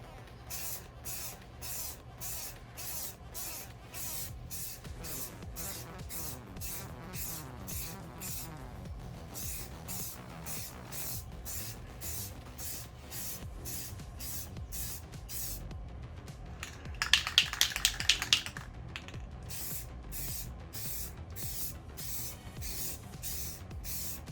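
Steady rhythmic hiss of spray paint bursts as another coat goes onto a PlayStation 5 console shell, repeated short sprays with a louder, denser blast partway through, no talking.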